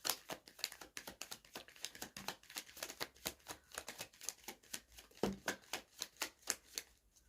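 Tarot cards are shuffled and drawn in a rapid series of crisp, close riffling snaps and taps, quiet and alone with no talking.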